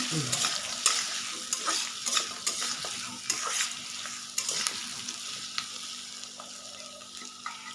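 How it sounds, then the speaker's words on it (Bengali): Potatoes and onions stirred and fried in a pan, a continuous sizzle with frequent spoon scrapes and clinks in an irregular rhythm, close and moderately loud. "আলু আর পেঁয়াজটাকে একটু ভালো করে মিশিয়ে নেব।"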